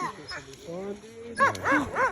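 Sled dogs at an Iditarod race camp whimper and yip in short, rising cries, the calls coming close and fairly loud in quick bursts, with people talking nearby.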